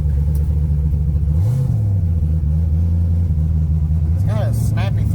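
Turbocharged 5.3-litre V8 car engine droning loud and close, rising in pitch as the throttle opens at about one and a half seconds, then pulling again near the end under a faint voice.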